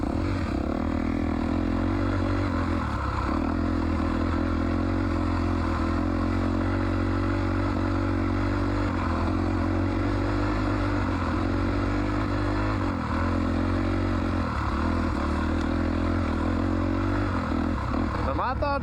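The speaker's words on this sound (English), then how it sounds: "My thoughts on this brand new dirt bike, the 2024 CRF 250RX, I like it." A 2024 Honda CRF 250RX dirt bike engine drones steadily while being ridden, a loud, constant buzzing hum with slight rises and dips in revs and some clatter, lasting throughout with talk over it.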